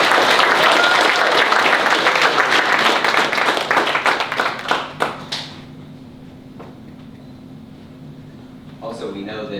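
A school board meeting audience gives a loud round of applause that runs dense for about five seconds, thins into a few last claps and gives way to a quiet room hum.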